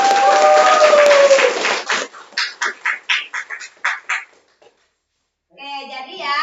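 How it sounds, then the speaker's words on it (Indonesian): An Indonesian classroom group claps in a quick rhythmic pattern of about a dozen crisp, evenly spaced beats after a debate. Voices are heard before and after the clapping. "Oke, tepuk tangan."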